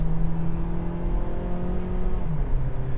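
A car engine drones steadily from inside the cabin, its pitch dipping and then rising as the revs change on a gear shift.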